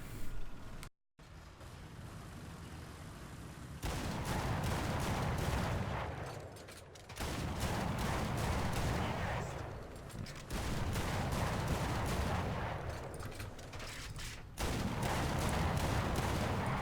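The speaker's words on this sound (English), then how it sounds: "it's not so great that guns are firing in complete synchronization" Type 65 anti-aircraft guns fire in War Thunder, the twin barrels going off in synchronized sustained bursts of dense, loud gunfire, with a short pause and several breaks between volleys.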